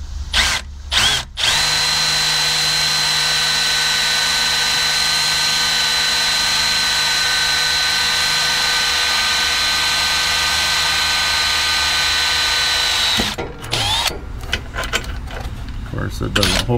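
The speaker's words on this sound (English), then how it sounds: "Come in here with a right angle and just drill her through." A right angle drill bores through a Jeep TJ suspension bracket in a long, steady, loud whine lasting over ten seconds, with brief starts and stops before and after.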